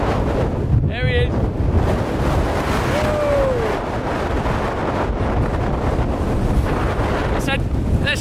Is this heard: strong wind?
yes